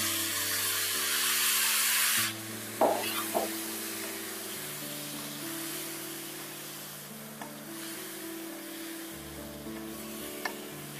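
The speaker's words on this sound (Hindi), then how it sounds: "इसे हम लो फ्लेम में ढककर भुनेंगे" A paste of tomato, ginger and green chili sizzles in a pan over a low flame, with a steady frying hiss and a couple of brief clatters from stirring.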